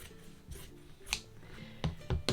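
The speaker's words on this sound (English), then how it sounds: "I'm just going to cut straight down and do it again on the second set" Scissors cut straight down through stacked layers of fabric while sewing coasters, making a few crisp snipping crunches at uneven intervals, quiet and close with no talking.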